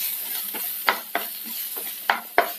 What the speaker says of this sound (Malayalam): ചൂടായ എണ്ണയിലേക്ക് സവാള ഇട്ടെടുക്കാം.